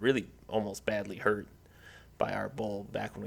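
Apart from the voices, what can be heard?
None of the usual background noises is heard.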